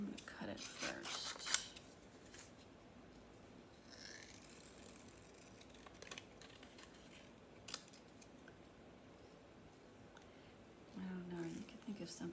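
Scissors snip paper for a handmade card in a school art class, a few short crisp cuts at the start and again near the end, quiet and close, with a soft murmur of talk between them.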